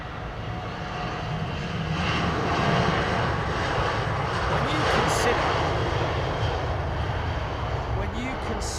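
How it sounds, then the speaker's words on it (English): Airliner taking off from Heathrow Airport into a fog bank, a steady broadband engine roar at moderate distance that holds throughout, with a commentator talking over it. "as they're taking off down there, as they head off into the fog bank"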